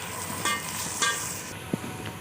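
Onions and ten to twelve green chillies fry until light brown, a close, even sizzle with a few scraping stir sounds and one sharp tap, no one talking.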